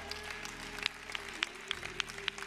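A church congregation claps in a rhythmic, spaced beat, fairly faint and distant, over a low sustained musical drone.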